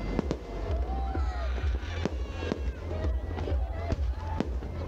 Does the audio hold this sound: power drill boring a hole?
no